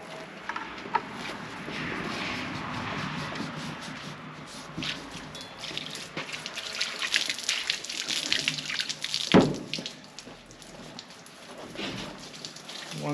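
Water sprays and patters steadily across an engine part being rinsed off after cleaning, a close, continuous hiss and splash with one sharper splash near the end.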